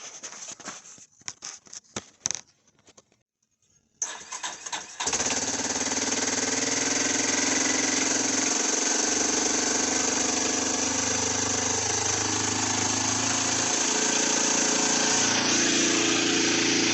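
A 2000 Yamaha Big Bear 350 4x4 ATV engine cranks with a few uneven bursts and a short pause, then catches and settles into a loud, steady, close idle that runs to the end.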